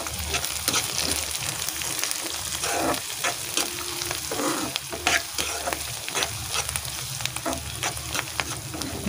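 Onions and turmeric for a goat brain curry fry in a pan, a close, bright sizzle with frequent scraping stirs and clatters of the spoon, no voice heard.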